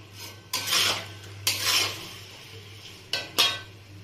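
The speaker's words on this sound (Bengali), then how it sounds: "ঘিটা দিয়ে আমি কিছুক্ষণ নাড়াচাড়া করব।" Vegetarian biryani with ghee being stirred in a pot: a spoon scrapes and clinks against the metal in three or four distinct sweeps, close and fairly loud over a steady low hum, with no talking.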